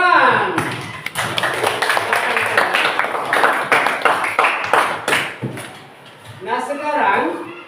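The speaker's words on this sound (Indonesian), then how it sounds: "Tepuk tangan." Children clapping hands together in a classroom, a sustained burst of rhythmic claps mixed with voices, fading toward the end as talking takes over.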